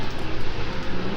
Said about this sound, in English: I apologise if you can hear the plane in the background.